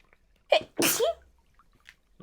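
A single loud, close sneeze with a sharp intake and burst, followed by quiet room sound and faint small noises.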